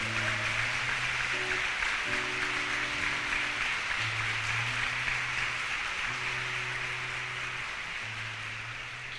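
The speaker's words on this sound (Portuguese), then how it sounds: "Pode aplaudir para valer." Audience applause at a religious prayer gathering, a steady, fairly faint hiss of many hands that slowly tapers, with sustained low musical tones running underneath.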